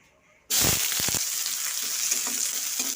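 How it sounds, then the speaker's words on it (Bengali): Onions hit hot oil in a kadai with a sudden loud sizzle, then fry in a steady, close crackling hiss, with a few stirring knocks partway through. "আমি তেল নিয়ে নিয়েছি কড়াতে পেঁয়াজগুলো দিয়ে দেবো"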